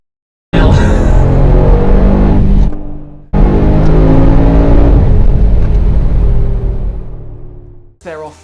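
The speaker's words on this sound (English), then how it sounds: "It's the engine. It's a deep, burbling symphony." Deep, loud burbling engine of a 2019 Mercedes-Benz G-Class, running steadily for about two seconds, cutting off briefly, then rumbling on for several more seconds before fading, with no talking.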